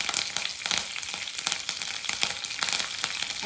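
Kadalebele and uddinabele tempering in hot oil, a dense, steady crackling sizzle with sharp popping bursts throughout, close and continuous.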